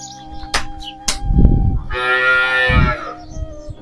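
A large Gir cow moos loudly and nearby at a cattle sale yard in Maharashtra, with a long drawn-out low call following shorter calls and animal shuffling.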